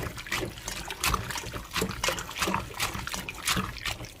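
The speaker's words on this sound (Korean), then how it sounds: "물을 받아서 이렇게 한두 번 더 헹궈 주세요" Water trickles and sloshes continuously as dried radish strips are rinsed and rubbed by hand in a bowl, close and fairly loud with no talking.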